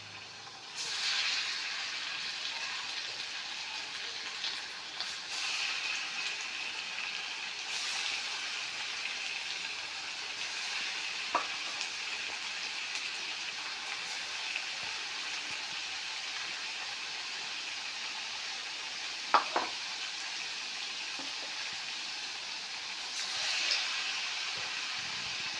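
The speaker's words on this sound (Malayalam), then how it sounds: "ഓരോ കഷ്ണങ്ങളായിട്ട് ഇത് പാനിൽ വെളിച്ചെണ്ണയിലിടണം." Potato pieces frying in coconut oil in a pan, a steady hiss and sizzle held throughout, with a couple of faint clinks from the pan.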